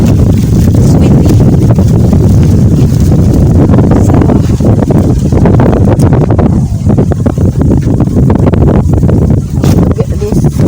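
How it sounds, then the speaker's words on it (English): Steady wind blowing across hot countryside while picking mangoes in the woods, a loud continuous buffeting rush on the microphone throughout, with a soft gust-like dip midway. "it's windy."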